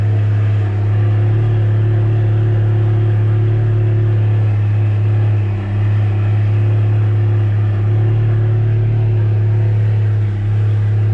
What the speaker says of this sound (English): so it is a full-on cold start. You can hear that turbine.